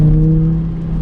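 Volvo S60R five-cylinder turbo engine with an aftermarket exhaust, a loud, steady humming drone with a strong low tone that eases slightly before rising again.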